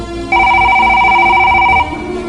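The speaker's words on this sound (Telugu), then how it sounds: "అరే రింగ్ అవుతుంది ఆగుండి." A single electronic telephone ring tone, a steady multi-tone burst lasting about a second and a half, loud and close.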